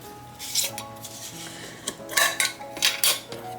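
A spoon stirs a garlic, pepper and salt spice mix in a bowl, making close, uneven scraping and clinking bursts that grow busier toward the end; no voices.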